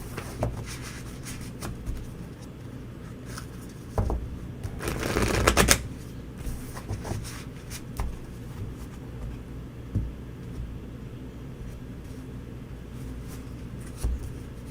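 Tarot cards being shuffled by hand, a soft papery riffling that swells into a louder burst of flicking for a couple of seconds, then quieter intermittent card handling and taps close by.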